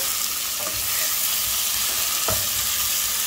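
Onion and tomato frying in a pan for sambar, a steady close sizzle with a few soft stirring knocks and no talking.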